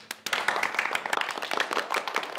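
At an office anniversary gathering, a small group claps in a burst of quick, uneven hand claps that start abruptly and continue briskly, fairly close.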